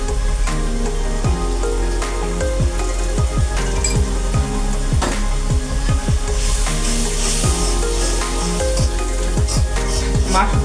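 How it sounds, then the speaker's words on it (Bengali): Spices and coriander powder fry in hot oil for khichuri, giving a steady, close sizzle with frequent clinks of a spoon stirring against the pan. "মশলাটা ভালোভাবে কষিয়ে নেবেন"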